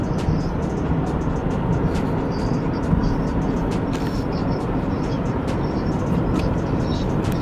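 Steady road rumble and wind noise from inside a car cruising along the Ohio coastal route toward Sandusky, loud and constant with no gaps.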